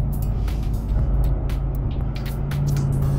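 A 2024 RAM TRX Special Edition pickup with a 700+ horsepower engine cruising along, its low steady engine drone and road rumble heard from inside the cab, mixed with wind buffeting and no talk.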